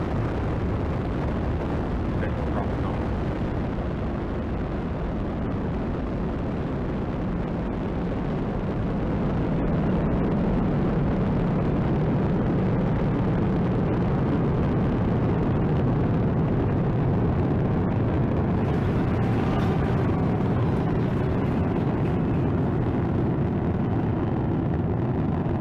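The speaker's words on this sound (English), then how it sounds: "Ignition, liftoff." A SpaceX Falcon 9 rocket lifting off on the Crew Dragon Demo-1 launch gives a loud, continuous, deep roar that swells slightly and holds steady for about twenty-five seconds, with no talk.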